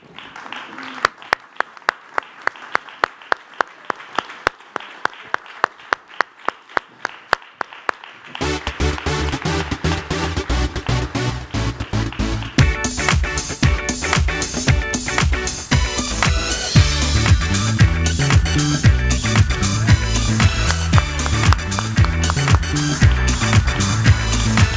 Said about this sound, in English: give them all one big round of applause